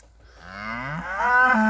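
A single cow in a pasture lets out a long, loud, rising moo close to the listener, with no other sound around it.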